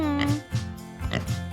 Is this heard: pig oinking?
yes